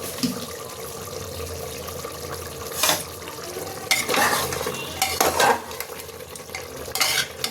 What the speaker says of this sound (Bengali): অনেকক্ষণ কষতে হবে